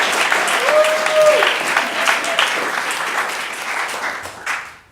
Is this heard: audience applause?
yes